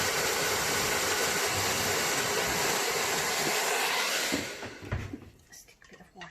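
Steady breathy blowing of air across a wet acrylic Dutch pour painting with metallic paints, a continuous close hiss lasting about four seconds before fading into quiet with faint handling noises.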